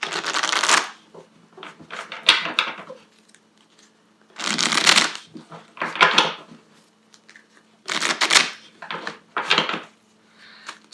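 Tarot cards shuffled by hand in repeated bursts, each a crisp riffling flutter lasting about a second, separated by short quiet pauses over eleven seconds, close and clear.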